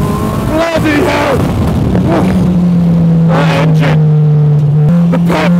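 Spartan track car with a naturally aspirated Honda K24 engine driven hard, loud and close, its steady engine drone rising and falling through gear changes under a voice talking over it.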